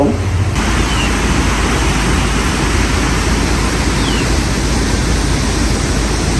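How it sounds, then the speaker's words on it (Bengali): Water rushing and babbling at a waterfall outdoors on a cold winter day, a steady, dense, close roar that holds unbroken from start to finish with no voices. "চারপাশে শুধু জলের কলকল শব্দ"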